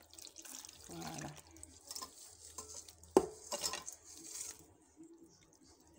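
Stirring a fruit mixture in a pot during home cooking, with soft scraping swirls and a few wet clinks, moderately close, some louder strokes midway, no talk.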